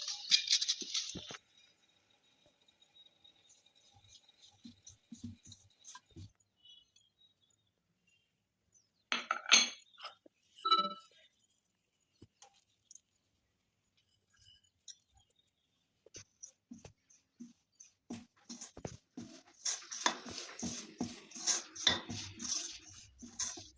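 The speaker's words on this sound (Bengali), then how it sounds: "সমস্ত উপকরণগুলোকে ভালোভাবে মিশিয়ে নিয়ে একটা" A spoon scrapes and clinks against a bowl while flour, semolina, rice flour, jaggery, fennel, raisins and grated coconut are mixed into a pitha batter, giving intermittent bursts of stirring and tapping with quiet pauses between.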